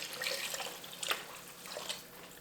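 Veggie broth pours into a pot of lentils and chopped potato, giving a soft, close liquid trickle and splash.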